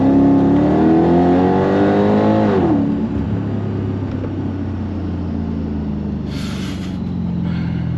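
A Mercedes CLK55 AMG with a swapped M113K supercharged engine pulls hard in second gear, the exhaust note rising loud and close, then dropping sharply at the shift and settling into a lower drone, with a brief hiss near the end.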